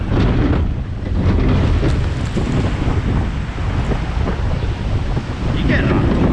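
Water splashing on an adventure park water ride, a broad wet rush mixed with steady wind buffeting the microphone, continuous and close for several seconds.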